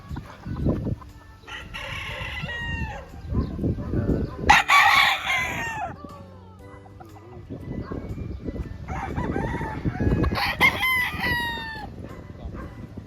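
White Kelso gamefowl roosters on a farm in Lipa, Batangas crow loudly one after another, several calls overlapping near and farther off, with clucking and farm noise between the crows.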